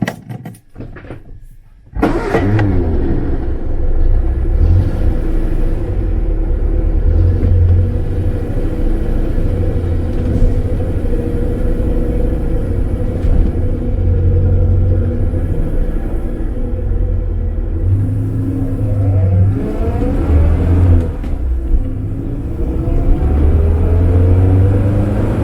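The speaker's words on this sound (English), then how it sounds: "let's go for a test drive" A 1950s Standard 10 fitted with a new stainless steel exhaust drives along after a door thump, its engine a steady low rumble with gentle rises under acceleration, heard from inside the cabin without talk.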